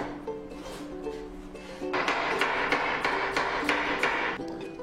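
Knife chopping peeled carrots into quarter rounds on a board for a vegetarian fava bean and pea curry, a steady run of close, crisp repeated cuts after a quieter start.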